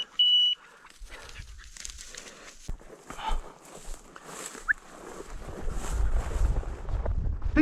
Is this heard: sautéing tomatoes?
no